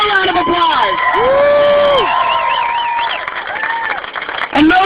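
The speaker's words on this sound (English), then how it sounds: "Give them a round of applause." Rally crowd cheering and whooping loudly with shouted voices, a dense, steady roar of excited people close by for several seconds, ending with a short burst of noise.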